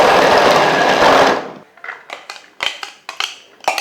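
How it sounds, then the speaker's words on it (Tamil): A manual non-electric juicer presses quartered carrot, starting with about 1.5 seconds of loud continuous grinding and crushing, then a run of sharp, close clicks and clunks in an irregular rhythm, with no talking. "இப்போ கேரட்டை 4 கட் பண்ணி உள்ளே போட்டுருங்க. மேலே க்ளோஸ் பண்ணிவிட்டு அப்படியே ஒரு ப்ரெஸ் பண்ணிட்டீங்கன்னா போதும்."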